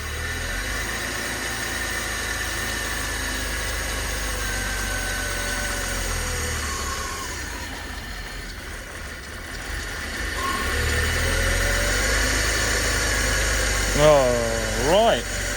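A 2.6 car engine runs at a steady idle, close and continuous, with people talking over it; near the end the engine picks up briefly as more fuel is given.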